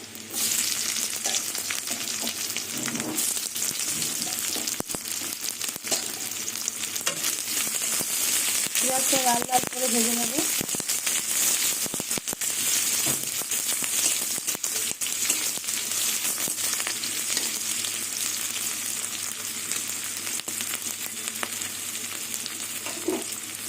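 Onion frying in oil sizzles loudly and steadily throughout, with occasional stirring scrapes and a brief faint voice partway through.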